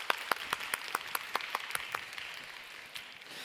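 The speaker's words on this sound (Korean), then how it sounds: "우리 시드니에 또 힘있게 선교 이렇게 단기 선교 다녀온 하민이에게 박수" Short burst of applause from a church congregation at a Sunday youth worship service, sparse, distinct claps spaced out at first, then thinning and fading away within a few seconds.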